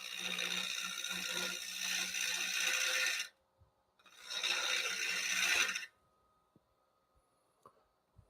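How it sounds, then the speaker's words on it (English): A wood blank is scraped on a lathe with a 40/40 gouge, two sustained rasping passes of about three and two seconds separated by a pause, close and fairly loud, followed by quiet with faint mechanical ticks. "So we'll just level that out just by scraping."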